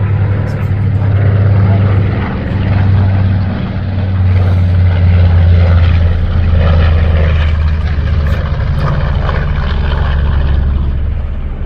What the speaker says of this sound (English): I see planes flying, not sitting on the ground.